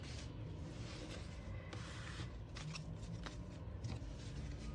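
Tarot cards being shuffled and laid out on a table, a soft continuous riffling and sliding of cards with small taps as they are placed, close and fairly quiet with no talking.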